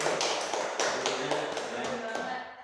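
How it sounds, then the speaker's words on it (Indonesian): An audience claps at a school thesis defense, a close, dense patter of hands that fades out over a couple of seconds, with a voice faintly underneath. "kita kasih aplaus dulu sekali lagi"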